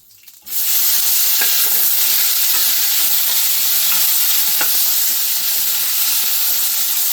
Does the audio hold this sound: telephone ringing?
no